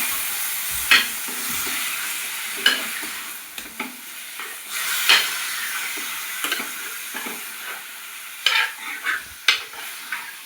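Food frying in a pan sizzles steadily while a utensil stirs it with repeated scraping strokes and clacks, close and fairly loud, with no voices.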